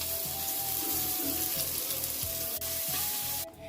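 Chopped green chillies and onions fry loudly in a hot pan for gobi manchurian, a dense continuous sizzle with rhythmic scraping and a faint steady hum beneath, ending abruptly.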